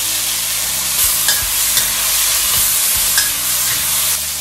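Chestnuts stir-fry in oil with a little sugar in a wok, giving a loud, steady sizzle broken by scraping strokes of a spatula, heard close with no voices.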